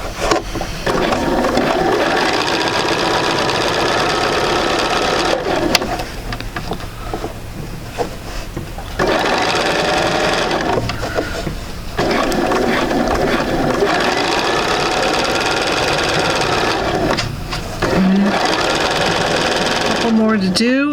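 A sewing machine stitches quilt sampler blocks together in long steady runs broken by short pauses, running close and loud in a stop-and-start rhythm.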